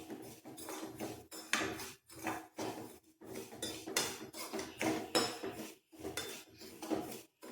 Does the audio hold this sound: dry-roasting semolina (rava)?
yes